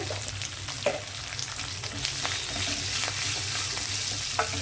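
Oil crackling and sizzling steadily in a pan with curry leaves and a pinch of turmeric, a continuous close frying hiss dotted with small pops, no talking.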